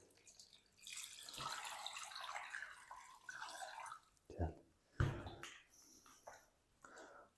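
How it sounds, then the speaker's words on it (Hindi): Water is poured into a pot of chicken, with uneven splashing and gurgling bursts and a few louder sloshes close by. "अब हम ना इसके अंदर पानी शामिल कर देंगे"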